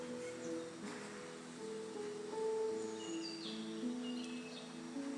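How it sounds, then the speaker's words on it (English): Birds chirp and call outdoors in short tweets and whistled notes, some near and some farther off, against a soft background hum. "Then I hear a lot of bird chirping sounds"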